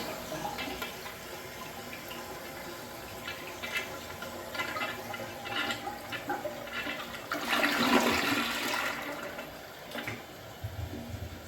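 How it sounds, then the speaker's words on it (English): A 1980s Kohler Barrington toilet flushes with a steady rush of water that swells to a louder surge near the end, then settles into a refill and trickle, with no voices. "See, with that flush, it was a lot faster."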